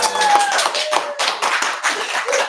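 Live audience at a Holler Live show claps in an uneven, scattered patter of hand claps, fairly close and loud, with no talk over it.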